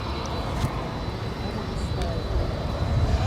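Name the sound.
Airbus A321 jet rolling down runway 36 right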